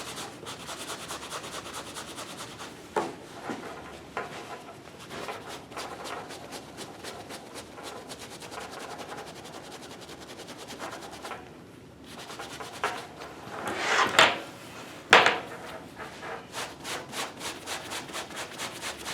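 An Indiana Jones leather jacket is scuffed by hand to weather its top section, giving a soft, steady close rubbing and scraping with a few louder scratchy strokes near the end.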